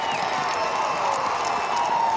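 A football stadium crowd at the 2023 NCAA Division II championship semifinal between Kutztown and Colorado School of Mines roars and cheers a big kick return, a dense, steady wash of voices and clapping that rises gradually without letting up.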